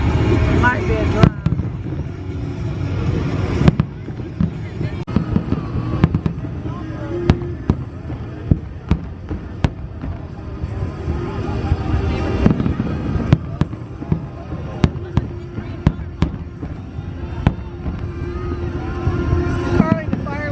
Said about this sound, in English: Carly, the fireworks are Aussie.